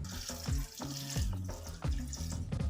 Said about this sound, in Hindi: कुकिंग ऑयल के बाद हम इसमें 1 गिलास पानी शामिल कर देंगे।